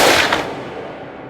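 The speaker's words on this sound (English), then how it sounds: "the crack of the gunshot shattering the stillness of the morning air" A single rifle gunshot rings out as a loud, sharp crack at the start, then fades into a trailing echo that dies away over about a second.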